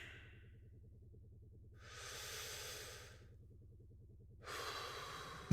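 In a snowy arctic video game, a character does slow, deliberate breathing exercises: two long, airy breaths sound close and clear over a low, pulsing hum.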